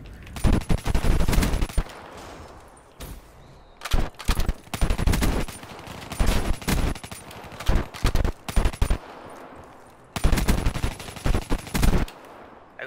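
Rapid automatic gunfire in a free-for-all shooter game, loud close bursts of machine-gun fire repeating in clusters with short gaps between them, no talk.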